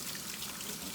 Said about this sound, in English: just give my hands a little rinse